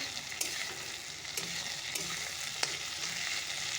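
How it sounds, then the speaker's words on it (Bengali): Vegetables frying in a pan give a steady, close hiss of sizzling oil, with a few sharp clicks of stirring scattered through it. "সবজিগুলো ভেজে নিলাম"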